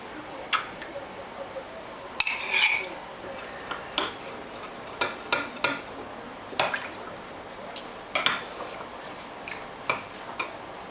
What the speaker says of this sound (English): Then stir it well into our